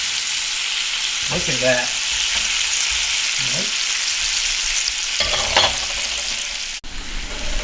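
Thick-cut homemade smoked bacon sizzles steadily on a Big Green Egg grill, a loud continuous frying hiss with a few brief spoken remarks and a sharp click near the end.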